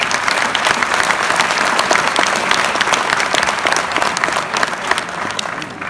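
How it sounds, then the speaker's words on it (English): Dense, loud audience applause fills a university convocation hall for graduates at Banaras Hindu University, a steady wash of many hands clapping that stays strong for the whole stretch with no talk over it. "Let's please give a big round of applause for the graduates."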